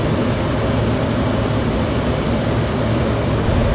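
An F-16 jet's engine roars steadily during takeoff in Microsoft Flight Simulator 2020, a loud, dense, unbroken rumbling drone with no voices.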